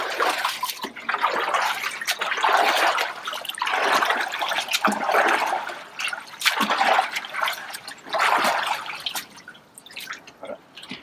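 Ice bath water is stirred by hand, sloshing and swishing in repeated surges with drips and trickles, close and fairly loud, with brief talk over it.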